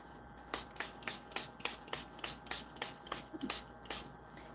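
Makeup setting spray misted from a pump bottle in about a dozen quick, evenly spaced hissing bursts, close and fairly quiet, with no talking.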